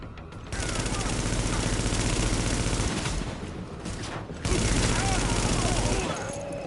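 Sustained bursts of automatic gunfire from a firefight in the video game The Division, loud and dense with a brief lull midway before the shooting resumes, with a voice speaking over it.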